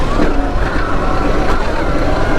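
A full-size Alien Rides Moto X electric dirt bike with clutch and gears runs in third gear, giving a loud, steady motor whine with rushing wind noise throughout.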